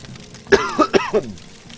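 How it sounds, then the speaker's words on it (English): A person coughs a few times in quick succession, close and fairly loud, with a throat-clearing quality and no talking. "I just cough."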